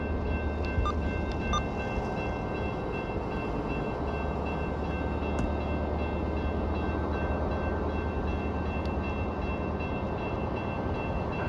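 An Amtrak passenger train led by an ALC-42 locomotive rolls past with a steady, low rumble of wheels and engine, heard from a distance with a few faint metallic clicks.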